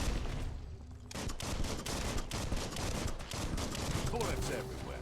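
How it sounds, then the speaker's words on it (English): Rapid gunfire crackles through the video game Biomutant, bullets spraying in dense, sustained bursts that keep the whole stretch loud and busy with no pauses. "Bullets everywhere."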